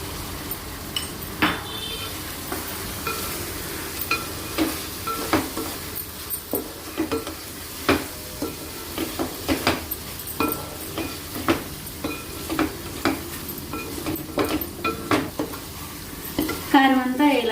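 Chili powder being stirred into masala frying in a pan, with repeated scraping and clinking strokes of a spoon against the pan over a steady close sizzle.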